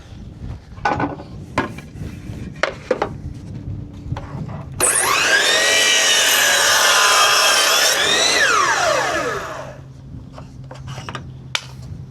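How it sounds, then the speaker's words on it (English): A miter saw spins up and cuts through wooden trim with a loud, sustained whine that falls in pitch as the blade winds down, after scattered knocks and taps from handling the wood. "The way that you should be mitering your trim is by using this feature on the saw and cutting your miter like this"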